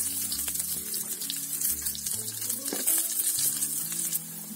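Onion sizzling in hot oil for an Indian brahmi (ondelaga) leaf chutney, a steady bright hiss with a little stirring and clinking, close and continuous, no voices.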